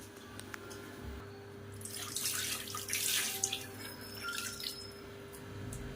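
Water splashes into a pot in one short pour midway through, over a quiet low hum.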